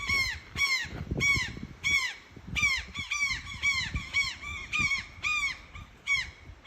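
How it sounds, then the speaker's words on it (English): Loud, repeated bird calls in a silent, litter-free park, a run of sharp harmonic squawks about a dozen times in an uneven rhythm, close and clear with no one talking. "the bird calls really are loud"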